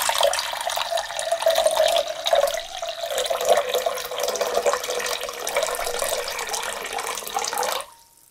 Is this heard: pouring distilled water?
yes